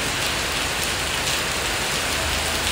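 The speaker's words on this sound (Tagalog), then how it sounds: "It's been raining in Manila." Rain falls steadily in Manila, a dense, even hiss of drops on surfaces, close and unbroken throughout, with no voices.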